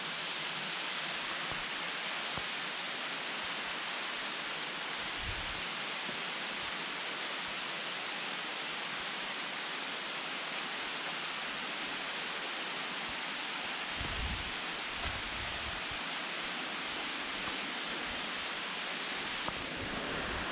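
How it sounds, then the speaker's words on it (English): A small waterfall at the Palenque ruins in Mexico makes a steady, close, broadband splashing rush that runs unbroken throughout, with no voices over it. "Oh, there's another little waterfall here too."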